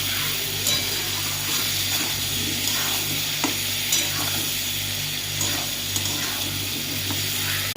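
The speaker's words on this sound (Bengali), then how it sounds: "এবার নুন হলুদ দিয়ে খুব ভালো করে ভাজবো" Fish frying in a pan with salt and turmeric gives a constant loud sizzle, with occasional scrapes and clinks of a spatula as it is stirred, under a steady background hum.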